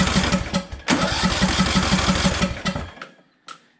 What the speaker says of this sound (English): crank the engine a few times, see if you get any PSI